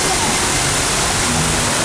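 A waterfall along the Disneyland Storybook Land Canal Boats ride gives off a steady, loud rush of falling water that fills the whole moment without a break.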